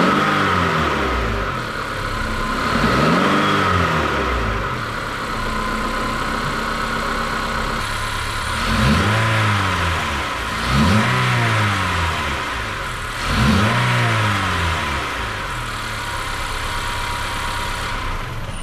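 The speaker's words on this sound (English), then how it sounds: "the intake sounds a lot louder" A 9th-generation Honda Accord engine with a free intake modification idles and revs repeatedly, rising and falling in several bursts with a loud, close intake roar throughout and no voices.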